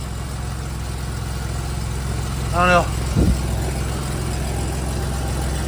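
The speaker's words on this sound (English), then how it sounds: "Sounds like we might have an exhaust leak up there somewhere too." A 2000 Chevy Camaro engine idles with a steady low rumble and a suspected exhaust leak, while a voice speaks briefly near the middle.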